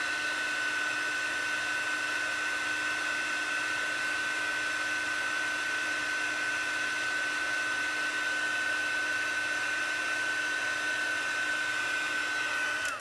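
A heat tool blows with a constant, steady whir as it melts heat embossing powder on a crafted birthday banner, droning alone without talk for the whole stretch.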